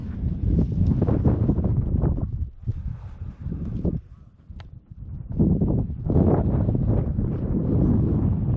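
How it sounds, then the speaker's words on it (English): Strong wind buffeting the microphone outdoors in a gorge on a hiking trail, loud gusty rumbling that dips briefly midway and then surges back, with no talk. "Pretty windy this morning."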